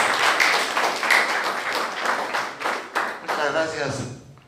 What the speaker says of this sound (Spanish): Por favor, recibamos con fuertes aplausos.